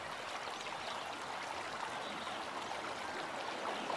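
A small trout creek flows steadily close by, its broad continuous rush and trickle of running water filling the scene evenly with no voices.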